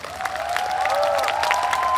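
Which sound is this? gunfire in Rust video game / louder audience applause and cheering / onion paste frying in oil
louder audience applause and cheering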